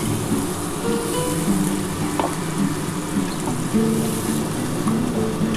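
Spice paste sizzling and bubbling in hot oil after water is poured in, cooking a Bengali pomfret fish curry; a steady close-up frying hiss with soft stirring clicks throughout.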